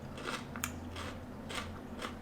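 Crunchy Aji Tangerine pepper being bitten and chewed, a few close, crisp crunching snaps spread over a couple of seconds, quiet and alone with no talking.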